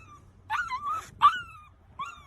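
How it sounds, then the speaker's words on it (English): A dog whimpers and yips in short, high, wavering cries, three main whines with brief gaps between them, close by over a low background rumble. "Is that your dog?"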